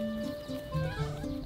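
A female donkey brays far off, a faint, thin, wavering tonal call carried over quiet outdoor background.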